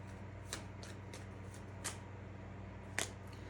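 Oracle cards are shuffled softly and close by in a few quick riffling bursts spread across a quiet, low hum, with the sharpest flick near the end.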